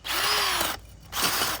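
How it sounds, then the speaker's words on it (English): A power drill fitted with an auger bit churns loose garden soil, running loud and steady for most of a second, pausing briefly, then spinning up again, close by with no talk. "You just let the drill do the work."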